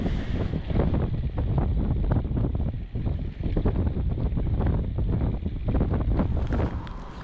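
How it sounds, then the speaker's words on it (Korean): Strong wind roars continuously across the microphone while cycling over the Bogil Bridge on Bogildo island, a loud, steady buffeting rush with gusty surges throughout. "바람 소리가 막 윙윙윙 들립니다"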